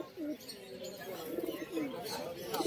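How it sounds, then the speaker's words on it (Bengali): A Kalpetia female Kolkata Giribaz pigeon at the Birnagar pigeon market gives soft, repeated throaty coos close by, with murmuring and bustle in the background. "এটা একটা কালপেটিয়া মাদি, কলকাতার গিরিবাজ পায়রা।"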